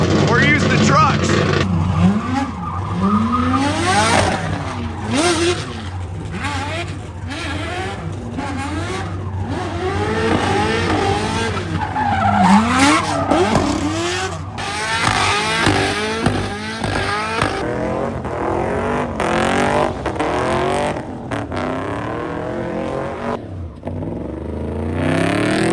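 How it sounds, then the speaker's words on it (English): A drift-steering truck at the SEMA 2024 show skids and turns with loud, repeated rising and falling engine revs and tire squeal, while people talk excitedly nearby. "Chris, we should have known those guys got that drift steering."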